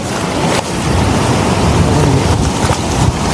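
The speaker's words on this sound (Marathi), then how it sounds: "लाटामुळं आज थोडे लाटासुद्धा जास्त आहेत." Rough sea waves crash at the shore under strong wind, a loud steady surf wash with brief surges, close by and constant, with no talking.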